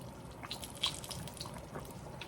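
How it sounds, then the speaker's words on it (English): Water added a little at a time into hot-water cornbread batter, heard as soft trickling and light drips over a quiet kitchen background. "just keep adding your water"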